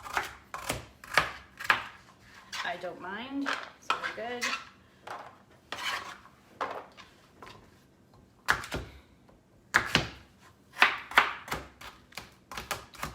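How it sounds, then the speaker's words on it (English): A knife chops vegetables on a board during home meal prep, with bursts of quick, sharp, close taps separated by pauses, while a person speaks briefly in between. "You can chop up your vegetables too if you're not particularly fond of chopping."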